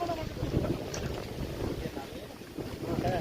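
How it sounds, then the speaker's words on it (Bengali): Boat crossing open water on the way to Mousuni Island, with a steady low engine and water rumble, wind buffeting the microphone throughout. "নৌকায় করে পার হবো।"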